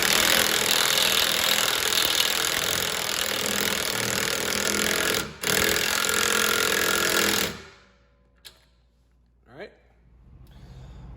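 Impact wrench hammering loudly and continuously on a bump stop nut of a Fiat 500 under the car, with one brief break, then stopping abruptly, followed by a couple of faint clicks.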